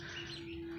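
Turkey poults in a straw-lined pen give a thin, steady high peep, a single sustained call faintly heard over soft background noise.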